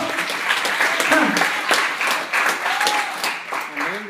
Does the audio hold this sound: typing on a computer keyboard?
no